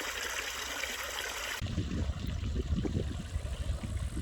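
A backyard swimming pool's filter runs continuously during two days of cleaning green water, giving a steady trickling, splashing water sound that grows louder and fuller partway through, close by.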